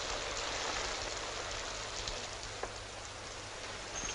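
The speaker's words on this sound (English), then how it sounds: "if it hadn't come on to rain" Steady rain falls as an even, soft hiss of drops on a surface, continuous and faint throughout, with no voices.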